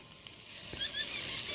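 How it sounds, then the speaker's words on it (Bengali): Vegetables frying in white oil with a little ghee, a steady close sizzle with soft crackles and a brief stir, with no talk. "সবজিগুলো ভাজা হচ্ছে সাদা তেল আর হালকা ঘিয়ের মধ্যে।"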